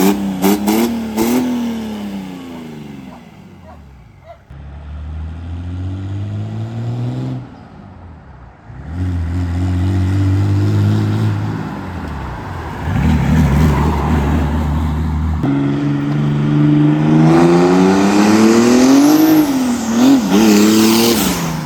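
Diesel drag car with an OM606 engine and a big turbo revs hard, its loud engine note climbing and falling through several throttle blips before a sustained high-rev pull near the end, with no talk.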